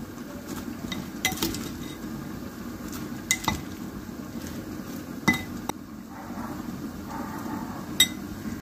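A spoon clinks and scrapes against a bowl while salad is tossed with lemon juice, several distinct taps and clatters spaced over a soft stirring rustle, close by with no talking.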